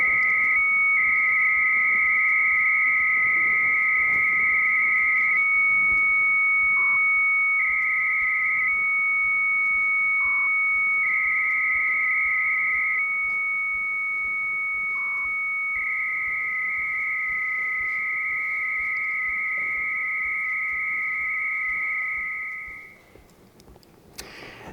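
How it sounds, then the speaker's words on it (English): Dial-up modem handshake over an analog telephone line: sustained steady tones with short pitch breaks and blips, loud and continuous for about twenty seconds before cutting off. "sound you are hearing are the modulation of a digital signal sent over an analog telephone line."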